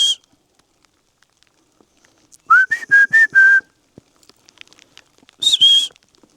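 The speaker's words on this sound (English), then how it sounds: "Not sure if somebody is whistling back to me" Someone whistles out on a fell: a short sharp note at the start, then a close run of four clear whistled notes, and one more rising whistle after a quiet gap.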